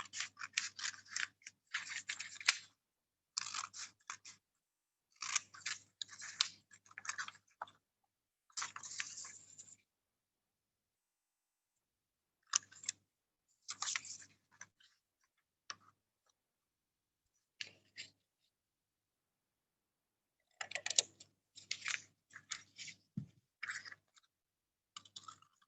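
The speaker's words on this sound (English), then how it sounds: "Using a scissors, just cut it out." Quiet, close snipping and crisp paper rustles in short bursts separated by silences, scissors cutting paper at an irregular pace.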